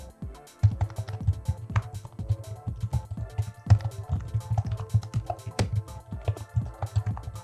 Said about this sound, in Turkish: Şu an gördüğünüz membran bir klavye. Tuşlara basıyorum ya.